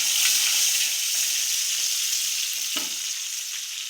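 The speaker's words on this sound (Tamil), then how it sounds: "எண்ணெய் ஊற்றிக்கிடுவோம். கடுகு, மல்லி இலை, புதினா," Mustard seeds, coriander leaves and mint hit hot oil for a crab soup and give off a loud, close, continuous frying hiss, with faint crackles and one brief pop.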